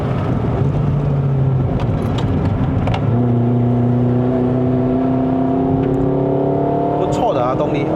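Toyota Vios 1.5J NCP150 with a four-speed automatic climbing the Genting road in Malaysia. The engine drones loudly, then shifts to a new pitch and keeps pulling steadily uphill.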